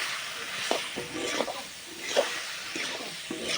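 Okra frying in oil with turmeric, salt and chili, a quiet steady sizzle stirred in soft periodic strokes, close and low in level.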